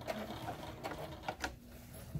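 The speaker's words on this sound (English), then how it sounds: "And I'm going to backstitch." A sewing machine backstitches as a brush holder is sewn, running in short mechanical bursts with a light rattling needle rhythm, close and fairly quiet.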